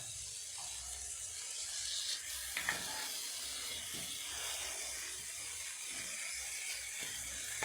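Beef mince fries in a hot pan, giving a steady, fairly quiet hiss and sizzle with a few faint clinks of stirring throughout.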